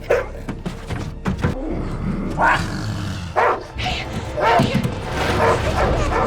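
A dog barks and yelps repeatedly in agitated bursts on a snow-covered mountain, mixed with excited human voices talking over the commotion.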